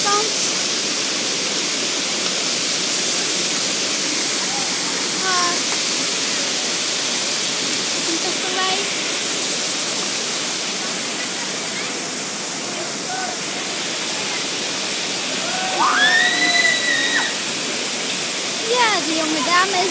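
A waterfall roars as a steady, loud rush of falling water. Faint voices and a few whistles or calls come through it.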